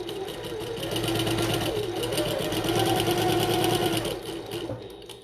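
A sewing machine runs a long basting stitch on a bucket tote, a fast, even, close mechanical rattle that holds steady for several seconds before slowing at the end.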